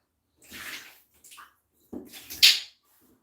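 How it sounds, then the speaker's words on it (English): Water tipped out of a bathtub used for bathing birds, heard as a couple of short splashing pours close by, the last burst the loudest, with quiet pauses between. "I'm going to dump this water"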